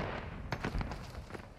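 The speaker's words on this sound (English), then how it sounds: "Where them gunshots coming from?" Several faint, distant gunshots crack in quick irregular succession in a multiplayer Civil War battle video game, muffled and low under a dull background rumble.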